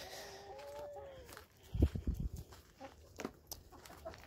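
A broody hen clucking nearby outdoors in the heat, a few soft irregular clucks and low bursts with some scuffling, fairly faint.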